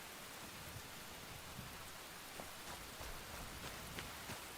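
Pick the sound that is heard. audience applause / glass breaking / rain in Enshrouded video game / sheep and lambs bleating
rain in Enshrouded video game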